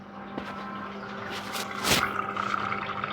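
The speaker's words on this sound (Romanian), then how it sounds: "dacă se aude niște sunete pe fundal, e mașina mea de spălat" Muffled watery churning and sloshing from an appliance running in the background, low and steady with occasional brief surges.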